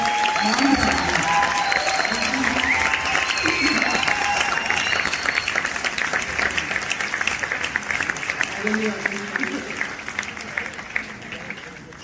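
Audience applause at a comedy troupe's live stage show in Canada, sustained clapping from a large crowd filling the hall for several seconds before slowly thinning out.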